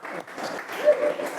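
Audience clapping at a political candidates' forum in Subang, a brief burst of steady applause from a room full of people.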